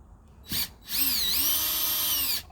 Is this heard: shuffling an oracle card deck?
no